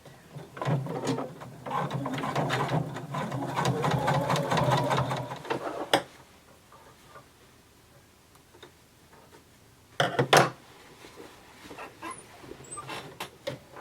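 A sewing machine top stitches the waistband of a denim skirt in a close, rattling run of rapid stitches lasting several seconds, followed by quiet and then a second short burst of stitching.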